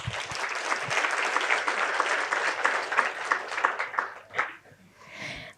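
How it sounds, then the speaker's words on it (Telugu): An audience in a meditation talk hall breaks into dense, sustained applause that holds steady for about four seconds, then thins out quickly into scattered claps and silence. "ఒకసారి గట్టిగా చప్పట్లు"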